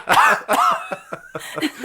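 A short burst of harsh coughs, several in quick succession, close and loud, with no talking.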